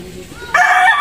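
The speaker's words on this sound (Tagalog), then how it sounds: "Mga manok na sasabungin, oh." A fighting rooster crows loudly and close by near the seashore, its strained call cutting in abruptly after a moment of low background noise.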